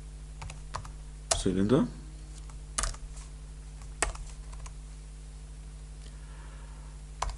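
Keystrokes on a computer keyboard come in scattered clicks and short bursts, with a quiet voice speaking German over the typing.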